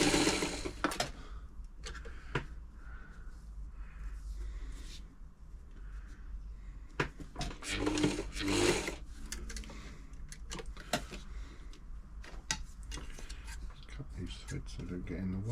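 A Singer 237 sewing machine runs while stitching in reverse, a steady rapid mechanical chatter with occasional clicks and knocks, while a person talks over it.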